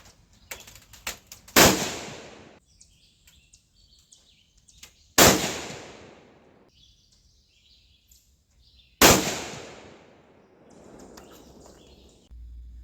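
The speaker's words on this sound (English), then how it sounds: "We're going to take 3 shots offhand and let you show you just exactly what that is." A .243 Winchester rifle fires three offhand shots outdoors. Each is a loud, sharp crack with a fading echoing tail, spaced about three and a half seconds apart, with no talking.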